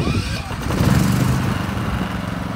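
A Westinghouse iGen4500 dual-fuel generator runs close by outdoors with a light breeze, giving a steady, loud engine drone with a faint rattle and no speech over it.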